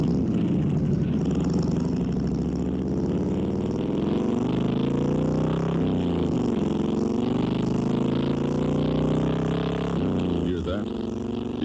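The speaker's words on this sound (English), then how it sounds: "The sweet sound of the world's most powerful motorcycles." Harley-Davidson big motorcycle engines rumble and rev in a radio advert, a steady deep throaty drone with gear changes and a voice talking over it.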